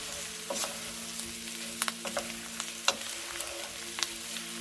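A breakfast skillet of bacon and linguica sizzling softly while scallion and fresh parsley are stirred in, with a low steady fry and occasional utensil clinks and scrapes against the pan.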